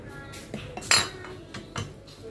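A spoon clinks and scrapes against a bowl while stirring a mixture made with a spoonful of cooking oil, several short close metallic taps over about two seconds.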